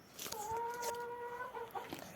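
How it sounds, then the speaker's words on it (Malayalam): A single chicken gives a short, drawn-out clucking call, faint and a little distant, heard on its own against quiet background. "ഇതാണ് ഒരു കോഴിയാണ്"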